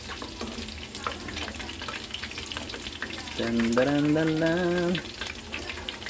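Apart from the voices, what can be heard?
chicken frying in oil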